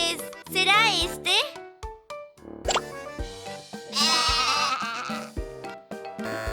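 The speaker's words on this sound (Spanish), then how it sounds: "Ese era el sonido de una oveja con pelo suave." A soft-fleeced sheep bleats in wavering cries within a children's animal sounds song, mixed with a child-like voice and cheerful music.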